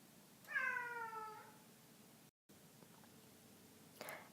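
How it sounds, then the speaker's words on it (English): Pet cats BB and Mila, one long clear meow near the start and a shorter faint call near the end, quiet and somewhat distant in an otherwise still room. "the sounds of my crazy cats, BB and Mila, in the background"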